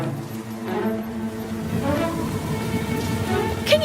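Rain pours down in a Fireman Sam cartoon scene, a steady hiss and patter with a brief splash near the end.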